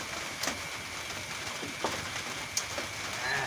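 Steady rain falling and pattering on a surface, a constant close hiss with a few sharper drops landing here and there.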